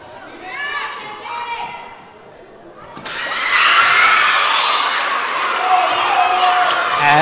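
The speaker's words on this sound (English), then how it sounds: "As you can hear the roaring in the background," Enthusiastic crowd in the Barton Gymnasium at a volleyball game breaks into a loud, sustained roar of cheering and shouting, rising sharply after a few seconds of voices and chatter.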